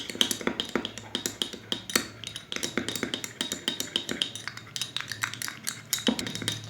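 Aloe vera gel and soothing gel being stirred together in a bowl, with a steady run of close, sharp clinks and scrapes of a utensil against the dish.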